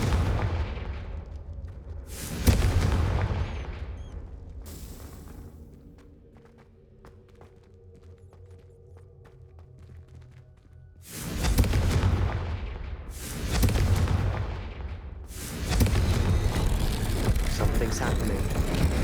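In the Hogwarts Legacy video game, Confringo spell blasts go off as loud, booming explosions. One bursts early, then a quieter stretch with rumbling follows, then three heavy blasts come in quick succession near the end.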